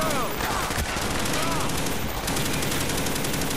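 Sustained light machine gun fire in the video game Call of Duty Black Ops, a dense rapid stream of loud close shots running almost unbroken throughout, with faint voices beneath.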